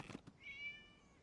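A single faint, high cat meow rises out of quiet ambience in Genshin Impact, preceded by two soft thumps.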